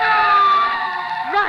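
Police car sirens in a classic radio drama wail steadily in a loud, sustained, layered tone, with a brief rising sweep near the end.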